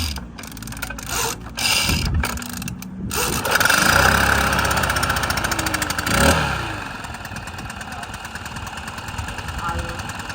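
A Stihl BR800c backpack leaf blower engine rattles into life, then settles into a steady, fairly quiet idle with a mechanical buzz, close by.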